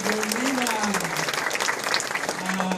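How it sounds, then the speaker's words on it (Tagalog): An audience claps for a speaker at a morning gathering, a busy, bright patter of hands that continues for a few seconds while a voice rises and falls over it. "Milyon palakpak naman para kay Ap Andrew"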